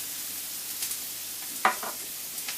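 Onions with seasoning, paprika and garlic powder sizzle softly in a pot for lentil stew, with a spoon scraping and stirring in a few clicks and one sharper knock, close and quiet.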